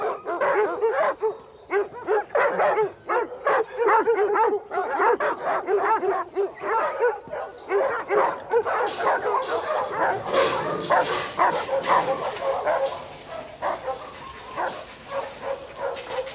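Several dogs bark repeatedly at a kennel, a dense run of close, loud yaps and woofs with some whimpering, continuing steadily throughout.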